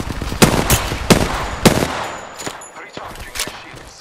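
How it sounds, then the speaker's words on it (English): Gunfire in the Apex Legends video game: several sharp, loud shots in a rapid irregular burst, then fainter scattered shots trailing off. "Shot at it. Shot fired at me."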